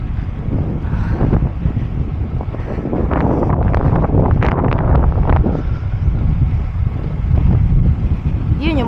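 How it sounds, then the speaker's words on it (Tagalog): Strong wind roars continuously across the microphone in an open outdoor spot near a shoreline, loud, gusty buffeting throughout with no clear speech. "Lakas lang ng hangin."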